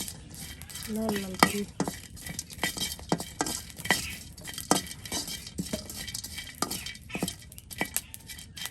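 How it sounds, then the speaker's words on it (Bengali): Drumstick leaves fry in a pan as a spoon stirs and scrapes, producing a steady sizzle broken by frequent metallic clinks and knocks, close up, with brief faint talk. "দেখুন কত সুন্দর করে বেজে নেওয়া হচ্ছে ভাজা ভাজা করে হচ্ছে একবারে"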